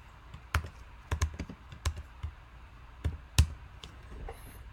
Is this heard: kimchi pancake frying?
no